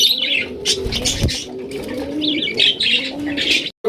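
Pigeons in a loft coo in close, throaty rolling calls, with sharper chirps and a brief flutter of wings mixed in, nearly continuous until a sudden cut at the end.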